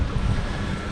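Strong wind roars steadily across the microphone with a broad rushing hiss, on a sailboat crossing the Bay of Biscay, with no voices.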